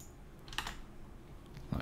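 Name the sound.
typing on a computer keyboard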